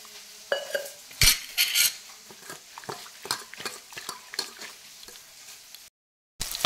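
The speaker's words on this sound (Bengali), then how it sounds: "এবার আমি মাছগুলি লাল লাল করে ভেজে নেব" Small pond fish fry in hot oil with a soft, close sizzle, broken by scattered clinks and scrapes of a spatula against the pan and a brief silent gap near the end.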